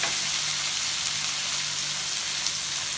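Chopped tomatoes sautéing for Chettinad crab masala, giving a soft, even, continuous sizzle close by with no distinct stirring strokes and no voices.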